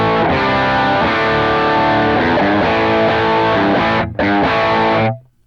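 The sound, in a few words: electric guitar through amp without compression, boosts, delays, reverbs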